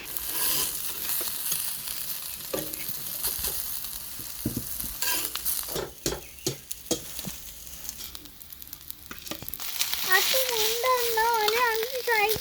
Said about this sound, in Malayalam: ഇതുപോലെ ഇത് മൊത്തം ഞാൻ പൊരിച്ചെടുക്കാം